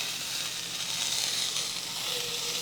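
Drumstick leaves (nugge soppu) fry in an oiled pan with garlic, curry leaves and green chillies, giving a steady, close, bright sizzle that holds evenly throughout with no voices.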